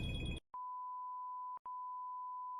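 Steady electronic phone tone sounding as one long beep, cut by two brief gaps, clear and alone after a short burst of louder noise at the start.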